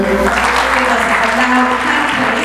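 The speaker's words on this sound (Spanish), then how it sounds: "Dando un aplauso fuerte." A church congregation claps loudly during a worship service, the applause continuous and full, with a voice and sustained tones sounding beneath it.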